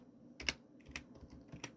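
Keys are pressed on a computer keyboard in a few quiet, separated clicks, spaced roughly half a second apart, close and isolated in a silent room.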